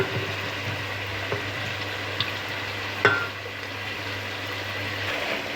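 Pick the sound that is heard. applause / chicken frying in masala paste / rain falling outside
chicken frying in masala paste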